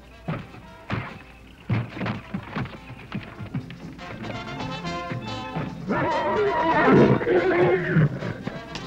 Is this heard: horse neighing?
yes